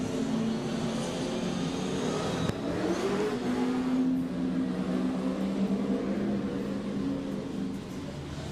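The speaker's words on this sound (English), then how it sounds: "Jordan, we're going now into our favourite louder classic cars" A loud classic car engine idles and revs at a live motorsport event, a steady low rumble with a sharp rise in pitch around the middle, then settling back to a throaty drone.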